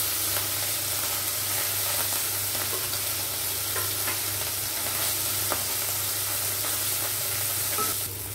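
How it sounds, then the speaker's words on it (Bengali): Small chuno fish fry in oil in a wok with a constant, close sizzle that runs for about eight seconds, broken by light scraping clicks as they are stirred and turned. "কড়াইয়ে তেল দিয়ে এই মাছগুলো দিয়ে দিচ্ছি"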